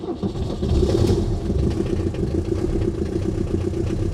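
Shelby Cobra 427 engine catching after a struggling start with a little gas, then running with a loud, steady, rumbling low-end note close by, no talk over it.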